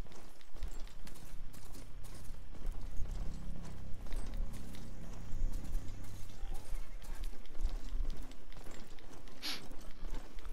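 A robotic machine mount gallops in the video game Horizon Forbidden West, giving a steady run of clip-clop hoofbeats mixed with clanking mechanical and gear-like sounds. The sound is moderately loud and continuous throughout.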